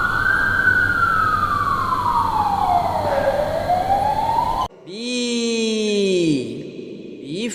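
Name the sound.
ambulance siren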